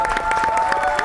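Audience at a televised Pakistani entertainment show claps and cheers for a singer's performance, dense rapid applause throughout the brief moment.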